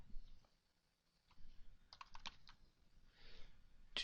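Computer keyboard typing in short irregular bursts of clicks, close and fairly quiet, with no talking.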